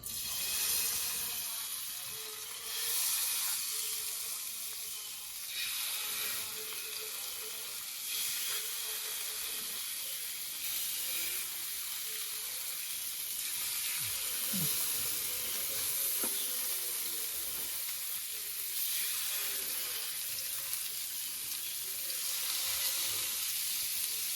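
Steady sizzling and crackling of masala-coated pomfret frying in hot oil, continuous and close, with occasional faint clinks and stirring sounds, no voices.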